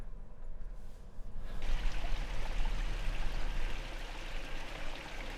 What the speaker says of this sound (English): So that is a literal river crossing.